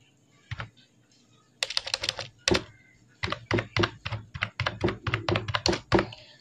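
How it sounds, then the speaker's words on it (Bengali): Close, crisp keystrokes on a computer keyboard while an Aadhaar number is typed in, coming as a lone tap and then quick irregular bursts of clicks with short pauses, no voices. "সেই আধার নাম্বারটা এখানে টাইপ করে দেবেন।"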